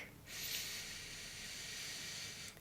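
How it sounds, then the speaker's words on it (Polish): A single slow, calm breath drawn in through the nose during a music workshop breathing exercise, heard as a soft, steady airy hiss lasting about two seconds. "swobodnie weźcie nosem wdech"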